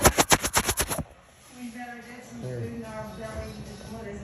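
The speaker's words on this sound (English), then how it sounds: "Yeah, these are new small fireworks." Small Monster Blast fireworks pop off in a fast burst of about eight sharp, loud cracks within a second, followed by people talking outdoors.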